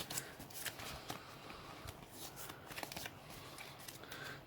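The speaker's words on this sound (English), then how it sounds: "Shuffle that." A Magic: The Gathering deck is shuffled by hand, with a close, continuous run of quick card riffles and flicks, crisp and fairly quiet, and no talking.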